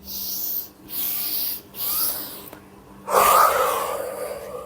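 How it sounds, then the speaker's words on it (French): Breaths pushed out through the mouth during a morning hatha yoga flow: three soft breathy exhales in quick succession, then a longer, louder, airy exhale, close and alone with no talk. "On expire par la bouche."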